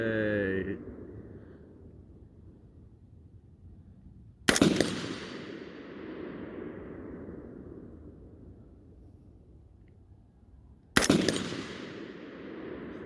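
Two loud, sharp rifle shots from a designated marksman rifle build ring out several seconds apart outdoors, each with a long fading echo, near and alone against quiet background.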